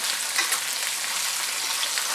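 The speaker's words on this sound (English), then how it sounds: "The stove is very low, so I'm just frying it in a very low manner." Continuous close sizzling of food frying in a pan on a very low stove, an even hiss with small popping crackles throughout.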